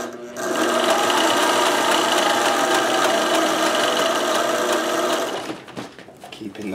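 Sewing machine running steadily while stitching a 3D printer cover, a loud close whirring hum that holds for about five seconds, then stops and leaves a few handling noises.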